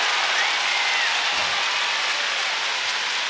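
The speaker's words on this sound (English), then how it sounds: "Crowd is happy here." Broad, steady applause from the arena crowd at the Judo Paris Grand Slam, filling the space evenly and loudly without pause.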